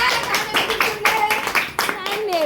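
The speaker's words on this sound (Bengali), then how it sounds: "জোরে একটা হাততালি হয়ে গেল" Audience applause at a Teacher's Day school program: a short burst of irregular clapping from a group, fairly close, with a voice speaking over it toward the end.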